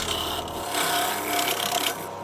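A rounded hand tool sanding and smoothing wood with a steady close rasping rub that swells and fades over a couple of seconds, with no voices.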